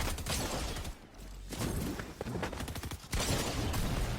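The Shadow Tracker exotic weapon in Fortnite fires in rapid automatic bursts, with loud stretches of rattling shots broken by two short pauses.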